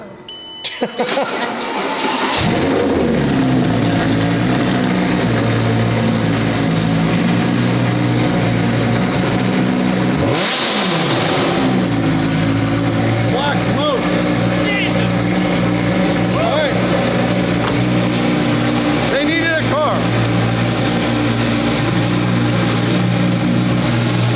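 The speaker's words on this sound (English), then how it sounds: "Fired up, cold start, let's go." A McLaren 720 GTR engine cold-starts, cranking briefly and firing up, settling into a loud, steady idle that revs once midway, close by.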